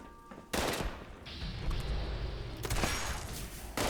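Quad explosive weapon firing in Fallout 76, a sudden loud onset of rapid gunfire with explosive bursts that carries on as a dense, sustained barrage before a brief break and a fresh shot at the end.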